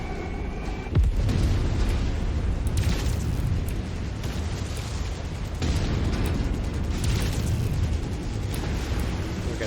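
Loud, rumbling game explosions from a destroyed target in MechWarrior 5, a sudden blast near the start followed by continuous heavy booming and crackling with further swells, with no talk over them.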